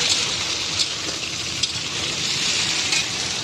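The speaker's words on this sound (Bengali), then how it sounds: "এটাকে একটু ভালো করে ভেজে নেব, লাল লাল করে এই তেলের মধ্যেই।" Spices fry in hot oil with a soft, steady sizzle and crackle, even and close throughout.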